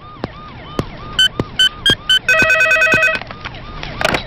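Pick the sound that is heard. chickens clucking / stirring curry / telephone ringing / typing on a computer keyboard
telephone ringing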